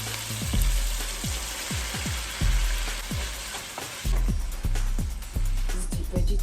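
Frozen minced vegetables fry in a hot pan, giving a steady loud sizzle with crackling pops and spatters. Sharp bursts, likely from stirring or moisture hitting the oil, recur throughout.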